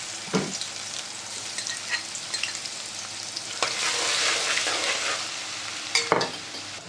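Garlic and ginger frying in hot oil for stuffed brinjal, a strong continuous sizzle with occasional scraping stirs and a couple of sharp utensil knocks near the start and end.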